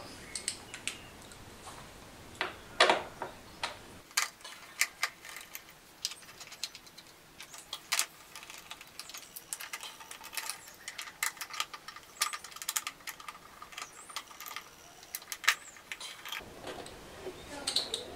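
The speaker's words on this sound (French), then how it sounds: "nous allons d'abord démonter les 6 vis de maintien de notre capot de boîte à air" A hand ratchet clicks in quick bursts while backing out the screws of the airbox cover on a Typhoon, Stalker or Zip pit bike, the faint close ticking coming in short runs separated by pauses.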